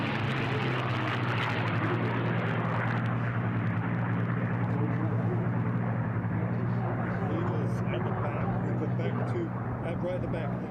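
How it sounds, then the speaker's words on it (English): A P-51C Mustang racing plane in an unlimited-class air race drones steadily in the distance with a continuous, rough engine roar, heard under a commentator's voice over a public address system. "Continue to follow our number 2 aircraft on the right side, the Boise B and the P51C model with John Maloney in race 19."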